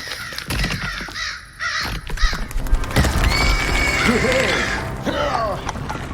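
Crows caw repeatedly in the PC video game Gamebook Edgar A. Poe: The Oval Portrait, harsh close calls scattered over a busy game soundscape with a horse whinnying, hoof clatter and mechanical noises, without talking.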